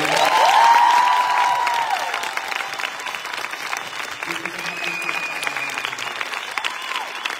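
A crowd at a fan meeting in Barcelona breaks into loud applause with scattered cheers, swelling at first and then settling into steady clapping with whistles and voices underneath.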